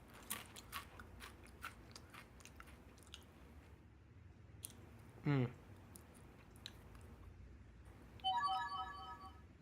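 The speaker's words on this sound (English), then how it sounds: "Oops, that was my phone yet again." A mobile phone ringtone goes off near the end, a bright chirping melody repeating for over a second, heard beside a voice during a late-night Counter-Strike gaming stream.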